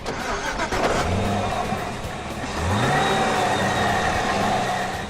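Supercharged 6.2-litre V8 of a 2011 Cadillac CTS-V Coupe starts and revs, a deep close engine roar that swells and climbs in pitch, then settles into a steady loud drone with no talk over it.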